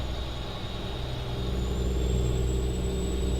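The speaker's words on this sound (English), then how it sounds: "listen to the sound of the engine in the game" Steady low rumble of an International Eagle 9400i truck engine in American Truck Simulator, droning evenly with a faint rising whine.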